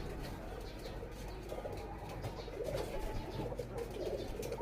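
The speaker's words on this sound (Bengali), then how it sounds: "অনেক সুন্দর এই কবুতরগুলো।" Pigeons cooing softly in a village setting, low repeated throaty coos overlapping at moderate distance over a faint rural background.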